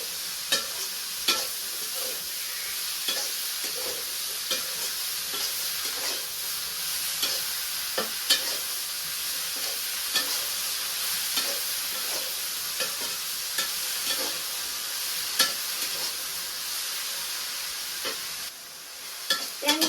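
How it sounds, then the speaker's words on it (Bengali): Water lily stems cooked with salt and chili in a village kitchen pan give a steady close sizzle, punctuated every second or two by clear scraping knocks of a stirring spoon. No talk is heard. "শাপলার মধ্যে নুন মরিচ কিছু দিয়ে দিচ্ছি আর নাড়াচাড়া দিয়ে দিই।"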